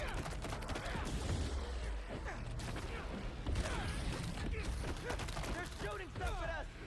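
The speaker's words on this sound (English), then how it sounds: "They're shooting stuff at us." Bursts of enemy gunfire in the PS5 game Spider-Man 2, rattling volleys and mechanical clanks mixed with game sounds and voices throughout.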